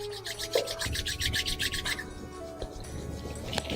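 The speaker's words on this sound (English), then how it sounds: "Rub your palms physically together now." Palms are rubbed together briskly at close range during a meditation routine, making a steady rhythmic swishing friction over a faint background hum.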